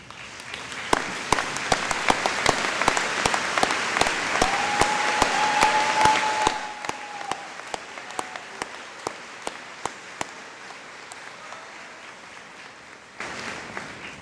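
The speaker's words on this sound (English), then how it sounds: "allow the graduates and their families to thank you with a well-deserved round of applause" Audience applause for faculty and staff at a spring college commencement ceremony in a large hall, a dense burst of clapping that thins into scattered individual claps before a brief swell near the end.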